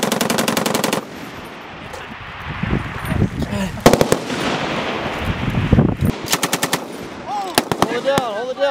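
A French FAMAS rifle fires loud automatic bursts during soldier training, with rapid strings of shots at the start and several more bursts near the end, separated by quieter stretches with people talking.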